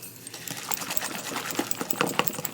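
Danish dough whisk stirring olive oil cake batter in a bowl, a steady run of soft, close scraping and rhythmic wet stirring strokes with no talking.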